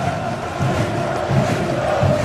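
Vasco football fans cheer in a stadium during a 2011 Copa Sul-Americana match, a loud, steady crowd roar with gently swelling chanting and no break.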